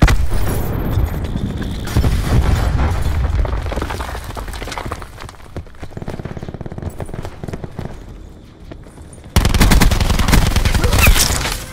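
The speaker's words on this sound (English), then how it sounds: "Cluster grenade." Cluster grenade explosions and rapid gunfire in a Call of Duty video game, loud dense bursts of shots and blasts that thin out midway, then a renewed heavy volley near the end.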